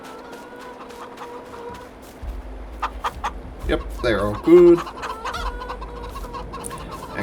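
Chickens clucking in the Farming Simulator 22 video game, a steady run of clucks and a louder squawk midway, with someone briefly talking over them.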